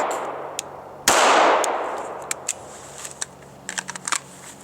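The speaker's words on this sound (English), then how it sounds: "I can also just practice the double action trigger, press, prep the trigger, but don't fire" A SIG Sauer P226 pistol is worked through dry-fire double action trigger presses. One sharp metallic snap is followed by a fading ring, then several quick small clicks come in clusters, close and clear, with no talking.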